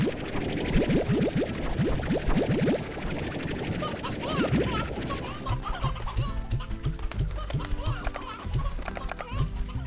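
Chickens in the video game Slime Rancher cluck in repeated quick bursts, close and fairly loud, layered over game sounds with a short run of rhythmic tapping later.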